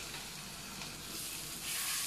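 Tomato and green chili masala for karimeen pollichathu sautés in a pan, a faint, soft sizzle that swells slightly louder toward the end.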